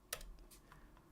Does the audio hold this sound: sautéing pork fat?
no